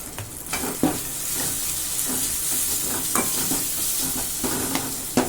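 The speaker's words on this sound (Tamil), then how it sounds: "நல்லா வதங்கட்டும் தக்காளி வந்து நல்லா வதங்கி வந்து அப்புறம் அந்த இஞ்சி பூண்டு போட்டு இஞ்சி பூண்டு பேஸ்ட்டு போட்டு நம்ம நல்லா வதக்கியாச்சு" Tomato and ginger garlic paste sautéing in a pan for capsicum gravy, a loud, dense sizzle throughout with repeated spatula scrapes and stirring knocks.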